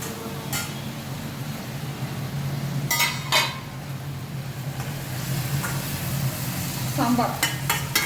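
Vegetables for sambar sautéing in a pan, a steady low sizzle beneath scattered clinks of utensils against the pot and a few sharp scraping stirs, close by in a home kitchen.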